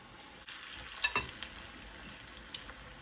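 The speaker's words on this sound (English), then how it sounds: "gently and carefully lower it into the oil" Falafel balls frying in a pan of oil, heard as a faint, soft, continuous bubbling sizzle with a few small clicks over a short stretch.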